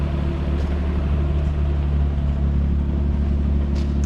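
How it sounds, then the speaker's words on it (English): An old Lexus car gives off a steady, low engine rumble that holds at an even level throughout, with no other sounds over it. "There goes the old Lexus though"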